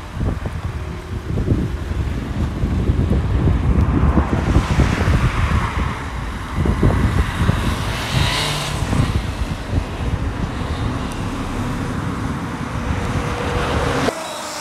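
Strong outdoor wind roars and buffets the microphone in a continuous heavy rush with gusting swells, loud and close, with a faint traffic-like rumble underneath and no talk.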